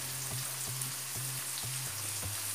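Curry leaves frying in hot oil for a dried fish thokku, a soft steady sizzle with a few faint sputters and pops spread across the short stretch.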